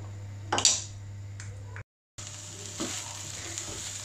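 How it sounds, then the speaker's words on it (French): Vegetables sautéing in a pan give a steady close sizzle, with a few knocks and scrapes as a wooden spoon stirs them. A brief dropout breaks the sound midway, and the frying hiss then carries on at an even level. "Et je fais revenir donc mes légumes."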